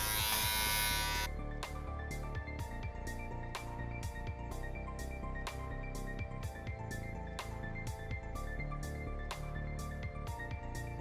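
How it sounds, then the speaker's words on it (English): Electric hair clippers work over a comb while trimming a man's beard, a close steady buzzing motor with rhythmic repeated strokes, preceded by a brief harsher burst at the start. "You can also do clipper over comb to get that out of the way."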